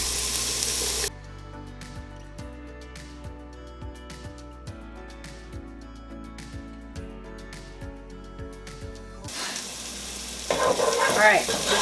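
Onions and garlic fry in a soup pot for minestrone, loud sizzling at the start and end with a stretch of background music between.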